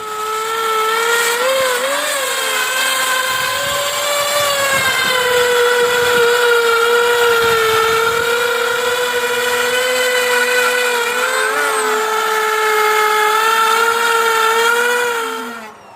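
A newly bought powerful drill fitted with a mixing paddle whines steadily at high speed for the whole stretch, loud and close, its pitch wavering slightly as the load shifts.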